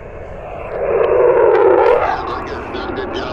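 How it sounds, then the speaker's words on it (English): Aircraft at an air show pass overhead, a broad roar that swells to a peak and fades over a few seconds, heard behind a nearby voice talking over an amateur radio contact. "I'm actually by an air show, so I apologize for the noise."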